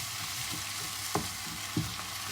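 Onion cooking in a pan, softening and releasing its water, gives a steady low sizzle with two brief scraping stirs, close and fairly quiet.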